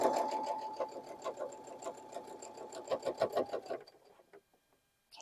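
A sewing machine stitches a fabric quilt block in a quick run of rhythmic mechanical clatter, close and fairly quiet, then stops abruptly into near silence.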